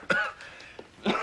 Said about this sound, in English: You mustn't cough like that.